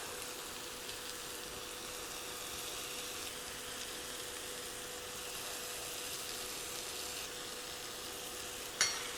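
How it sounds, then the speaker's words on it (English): Sausage browns in a pan with a steady, even sizzle that holds at a moderate level throughout, with one brief clink near the end and no voices. "when you start cooking sausage, it smells delicious"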